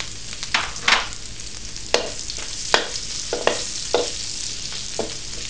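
Garlic dropped into very hot rendered pork fat at the bottom of a pan, a steady close sizzle with scattered louder crackles and a few stirring scrapes, no talk.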